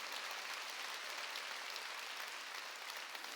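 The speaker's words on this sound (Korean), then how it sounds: "깨달은 사람만 박수 치라고요." A church congregation claps during a Wednesday worship service, a faint, even patter of many hands heard from a distance and holding steady throughout without voices.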